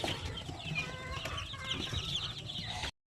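Shamo Aseel rooster and hens cluck together at close range on a farm, a busy chorus of fowl calls with no talking that stops abruptly near the end.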